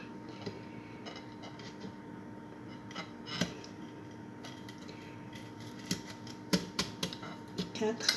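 A knife slices cucumber, carrot and beetroot for a salad, giving several sharp, close taps on a board that grow more frequent toward the end, with a person talking over them.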